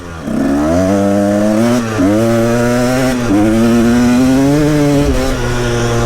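A Husaberg TE 300 two-stroke dirt bike engine revs hard and close, a loud buzzing drone that rises and falls in pitch through several throttle pulls, continuous with no talking.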